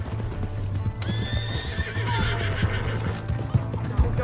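Horse hooves clip-clop at a gallop in Red Dead Redemption 2 in Valentine, with a clear whinny rising over the steady beat, loud and close.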